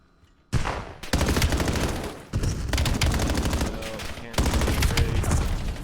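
Rapid automatic gunfire in a competitive shooter video game, dense bursts of shots in long near-continuous runs with brief gaps, loud and close.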